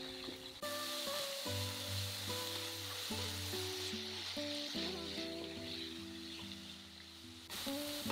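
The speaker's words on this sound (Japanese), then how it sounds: "砂糖を加えて炒め、先に甘みをつけていきます。" Chopped nozawana pickles with sugar sizzle steadily in a hot pan while being stir-fried, a continuous close frying hiss with scraping stir strokes, no talking.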